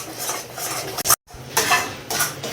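Spice paste being stirred and fried in a pan for stuffed pointed gourd, with a steady scrape of utensil against metal and clatter, broken by a brief silent gap.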